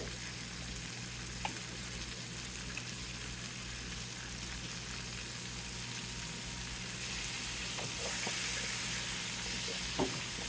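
Green beans with garlic blister in a pan over high heat, a steady close sizzle and crackle that runs throughout, with a low hum underneath and an occasional faint tap of the pan.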